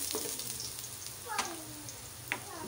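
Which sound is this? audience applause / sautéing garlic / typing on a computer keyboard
sautéing garlic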